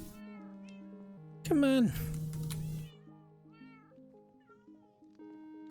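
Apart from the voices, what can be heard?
cats meowing in the video game Minecraft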